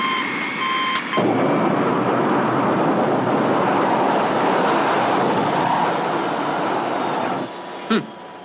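A spacecraft touching down under computer control, a loud sustained roaring rush with a whining tone that cuts off abruptly, followed by a brief electronic blip.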